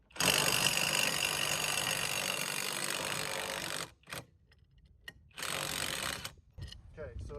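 A cheap Temu impact wrench loosens a bolt in two loud sustained bursts of rapid hammering, with quieter clicks and handling noise in the pause between them.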